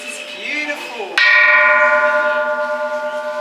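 A large Buddhist temple bell on Koh Samui is struck once with a loud, near attack, then rings on in a long, steady humming sustain with slowly pulsing beats, after a moment of quiet voices beforehand.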